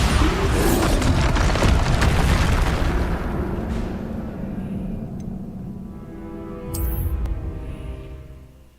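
A Bombarda spell explosion in a Hogwarts video game: a loud, close blast with a heavy booming roar that slowly fades, then a short bright burst near the end.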